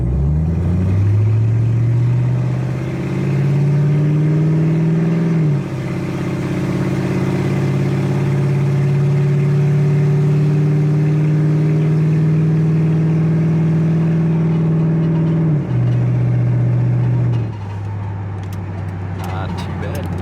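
A tuned Ford Crown Victoria police car engine accelerates lightly, its steady drone rising slowly through long gears before dropping back near the end, with someone talking over it much of the time.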